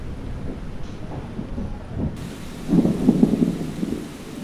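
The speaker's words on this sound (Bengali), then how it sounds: "ততক্ষণে মুষলধারায় বৃষ্টি নেমেছে" Torrential downpour in a storm, with low thunder rumbling under a steady wash of rain that swells louder toward the end.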